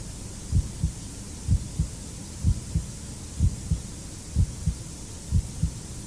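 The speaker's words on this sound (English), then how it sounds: "The heartbeat's in, everyone." Heartbeat sound effect from a TV phone-in quiz show, broadcast in 2009: steady paired thumps, lub-dub, repeating about once per second over a low hum, with no talk.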